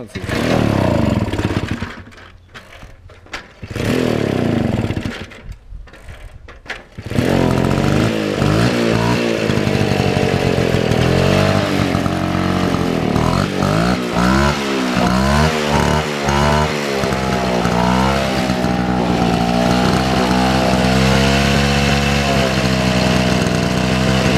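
Motobecane D45 moped engine sputtering through a few start attempts, then running continuously with a loud, rough two-stroke buzz up close.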